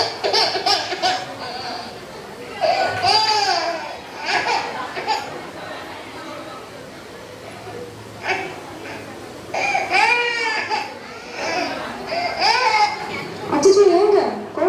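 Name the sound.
baby crying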